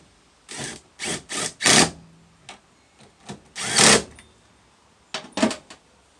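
A power tool runs 8mm bolts in during a Toyota Prius hybrid battery replacement, giving several short, loud, close whirring bursts with brief pauses between them and no talking.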